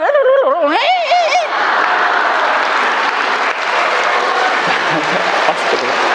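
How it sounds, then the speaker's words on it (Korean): Congregation applauding in a Catholic parish church, a dense, steady wash of clapping from many hands that fills the whole stretch. It follows a voice that briefly sings at the start, with scattered chuckles in the crowd. "박수 좀 그만 치소."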